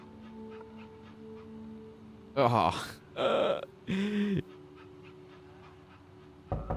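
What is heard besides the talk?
real puppy whimpering, recorded in video game That Dragon, Cancer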